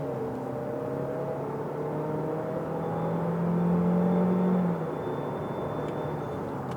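A 2022 Chevrolet Equinox Premier 1.5 AWD idling with its AC running, then revving up at launch with a rising engine drone that swells mid-clip and drops back to a steady hum.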